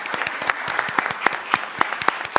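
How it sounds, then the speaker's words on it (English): Audience at a city council meeting clapping, a moderate group of distinct hand claps in a quick, uneven rhythm, fairly close and continuous. "I think that deserves a hand clap"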